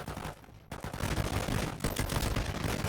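Continuous automatic gunfire in the mobile battle royale shooter Warzone Mobile, a sustained loud barrage of rapid overlapping shots that dips briefly near the start and then keeps pounding without pause.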